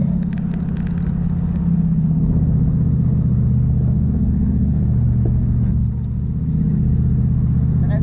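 A Toyota Hilux automatic fitted with manual shift control rumbles steadily at close range, its engine droning low and continuous as it moves through the gears, with only slight shifts in pitch and no talk over it.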